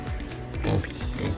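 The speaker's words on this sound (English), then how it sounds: "Here's another really big pig." A big pig on a farm gives a few short, low grunting oinks close by, with brief gaps between them.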